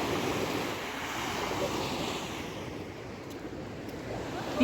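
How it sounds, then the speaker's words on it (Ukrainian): Black Sea surf in Odesa washes onto a beach in a steady broadband roar, with wind buffeting the microphone throughout. "Так, дивіться, тут море."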